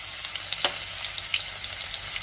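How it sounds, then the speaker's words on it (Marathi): Cumin, cinnamon, cloves and crushed garlic sizzle in hot oil in a pan, a steady hiss with soft crackles and a couple of sharp pops, heard alone without speech. "तेल गरम झाले, त्यामध्ये जिरे, दालचिनी आणि लवंग घालूया। त्यातच टेचलेला लसूण घालायचा आहे"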